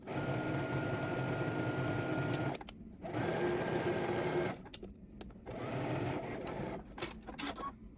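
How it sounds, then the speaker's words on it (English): A sewing machine stitches the underarm seam of a sleeve with a 5/8-inch seam allowance for a Simplicity 3167 pattern. It runs in close, steady whirring bursts, with short pauses between runs and no talking. "Now we're going to go ahead and stitch using 5/8 of an inch seam allowance, starting at the hem and working our way up."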